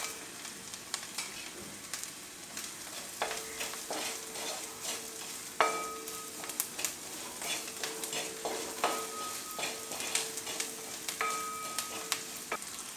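A meat pickle mixture stirred in a pan, faint sizzling under repeated scraping and clinking strokes of a spoon against the metal, close and quiet, irregular in rhythm, with no talk.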